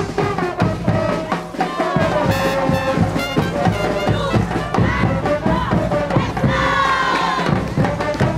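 A Caporales dance group from Lugano, Argentina, lets out its traditional group shout amid a loud, cheering crowd, with dense overlapping voices and yells that continue throughout.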